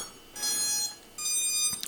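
Two bright electronic beep tones from a Walkera Vitus drone powering on, each held for about half a second with a short gap between, clear and close.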